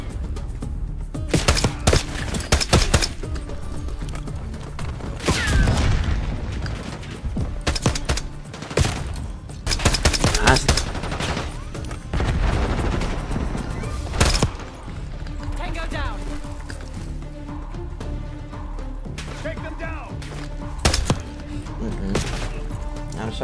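Repeated bursts of gunfire and explosive impacts in the video game Call of Duty Black Ops 6, loud and clustered in several volleys across the stretch, with a player talking over them.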